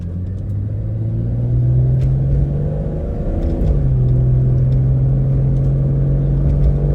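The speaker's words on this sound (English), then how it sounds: "we are pulling onto the highway, and I'm going to do a 0 to 75 pull" An old Jeep accelerating hard onto a highway from a standstill, a loud close engine drone climbing steadily in pitch, dropping briefly at a gear change and then pulling upward again.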